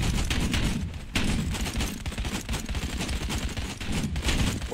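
Dense gunfire in the VR shooter Out of Ammo during a tank battle, rapid overlapping shots and thuds in a loud continuous barrage with no pauses.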